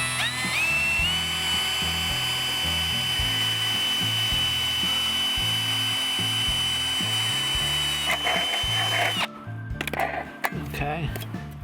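A whining power drill runs steadily for about eight seconds under continuous talking, drilling through metal on an ambulance, then cuts off, followed by scraping and handling noises.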